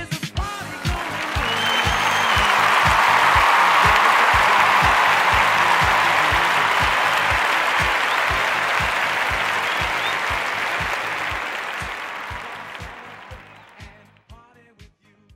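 A school audience honoring top academic, athletics and arts students breaks into loud, sustained applause that builds quickly, holds steady for about ten seconds over a soft rhythmic music beat, then tapers off.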